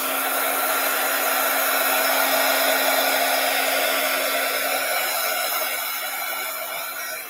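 A hair dryer blows steadily and loudly to dry paint on a painting, a constant whooshing hum with a motor whine that holds for several seconds and then tapers slightly toward the end.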